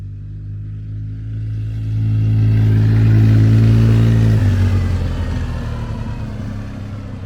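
A car drives past on a forest road high in the Rocky Mountains. Its engine swells loud and close, then the tone drops and the rumble fades as it moves away.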